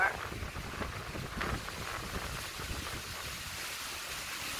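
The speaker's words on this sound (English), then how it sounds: "the wind's almost blowing me over" Strong tropical storm wind gusts buffet the microphone on Long Island, New York, a rough low rumbling roar that swells and dips over a few seconds.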